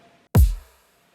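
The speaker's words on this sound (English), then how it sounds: "the kicks in the break sounds like this" A single punchy electronic kick drum from a hip-hop beat break, loud and alone: sharp transient with a deep pitched-down low-end boom decaying over about half a second, then silence.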